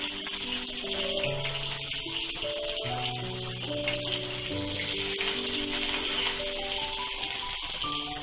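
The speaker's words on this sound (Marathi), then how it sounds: "लसूण चांगला हलवून घ्यायचा। त्याच्यामध्ये मिरची घालायची पहिली" Garlic and green chilies fry in a pan for a Maharashtrian dill greens dish, a constant close sizzle with an underlying steady hiss, no talking.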